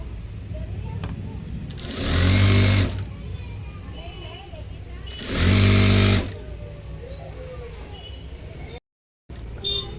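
Sewing machine stitching the waistband of a blouse: two loud bursts of rapid motor-driven stitching, each about a second long, separated by quieter handling noise.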